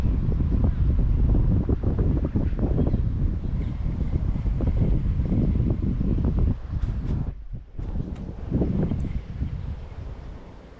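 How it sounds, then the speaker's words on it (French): Steady, loud wind buffets the microphone outdoors during summer perch fishing, a continuous roar with a brief lull near the end. "le vent s'est mis à souffler maintenant"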